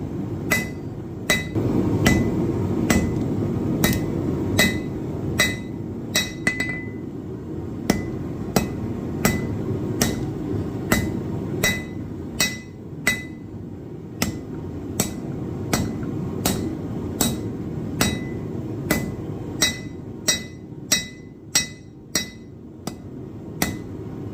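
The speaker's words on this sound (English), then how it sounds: "I'm going to hammer this corner in to forge a point" A hammer rings out on steel against an anvil in steady, evenly spaced blows while forging a knife point, loud and close over a constant low hum.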